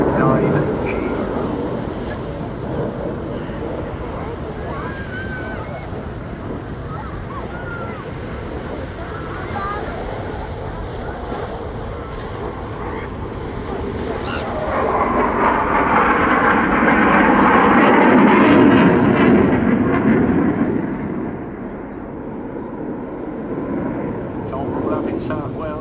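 At the English Riviera Airshow, a Eurofighter Typhoon jet roars through its display as a loud, continuous rumble that swells to a peak midway and then eases off.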